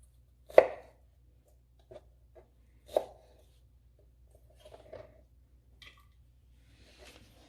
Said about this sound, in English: And go ahead and chop it up.